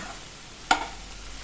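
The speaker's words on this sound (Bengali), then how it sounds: "এবার ভেন্ডিটা আর আলুটা সিদ্ধ হয়ে যাওয়া পর্যন্ত এটাকে নাড়িয়ে নেব" Okra and potatoes being stirred in a frying pan over medium heat, with a single quick scrape of the spoon against the pan over a faint, steady sizzle.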